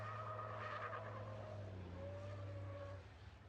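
A racing truck on a circuit drifts with its tyres skidding and smoking, giving a steady engine drone and a long tyre squeal. It stays loud for about three seconds before fading.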